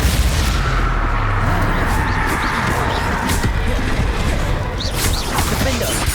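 Booming, crackling spell blasts from Confringo and Crucio in the Hogwarts Legacy video game on PC, a dense continuous barrage of explosive bursts layered with spoken spell incantations.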